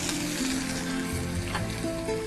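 Green beans, peas and capsicum sizzle steadily in a hot pan, a soft, continuous frying hiss with a faint tonal hum beneath.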